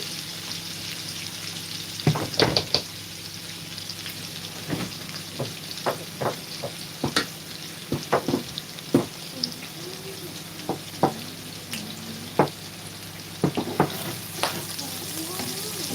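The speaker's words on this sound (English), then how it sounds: "Just stir it up so it doesn't burn." Food sizzles steadily in a pan while a utensil stirs and scrapes it in scattered taps and clinks, the frying hiss continuous underneath.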